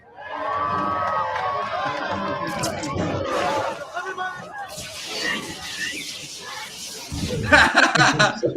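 A crowd at a pro-Palestine protest in Springfield cheers and shouts, with mixed voices rising and falling in loud, uneven bursts and some chatter between them.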